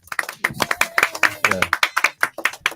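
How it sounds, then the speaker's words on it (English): A small group claps together at a celebration, a rapid, sharp and close burst of applause that keeps going throughout, with some talk underneath. "Claps all around."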